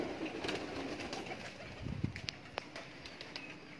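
Kamangar pigeons coo softly in a quiet loft, a faint low murmur with a brief throaty call near the middle and light ambient noise around it.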